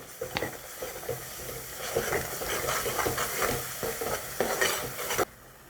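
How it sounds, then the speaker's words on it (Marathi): Coriander powder, garam masala and turmeric sizzle and crackle in a hot pan as they are stirred, a steady frying hiss that cuts off abruptly at the end. "धने पावडर टाकू गरम मसाला हळद याला चांगलं परतून घेऊ"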